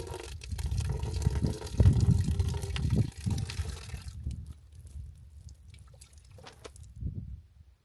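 Water poured out for a horse in a desert setting, a close, steady splashing trickle that swells around the middle and then thins to faint dribbles and drips.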